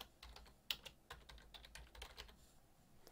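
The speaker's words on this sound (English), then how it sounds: "and then start typing" Typing on a computer keyboard, a quick irregular run of soft key clicks with one sharper tap, close and quiet with no talking.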